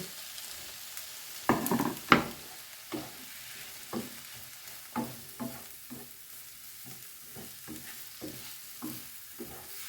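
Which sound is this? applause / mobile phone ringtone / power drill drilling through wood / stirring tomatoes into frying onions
stirring tomatoes into frying onions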